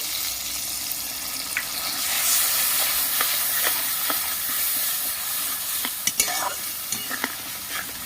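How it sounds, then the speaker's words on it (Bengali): Okra stirred and fried in a pan with cashew and poppy seed paste, giving a steady close sizzle with scraping spatula strokes and a few sharper clinks, no talking. "ভালো করে একটু কষিয়ে নেবো"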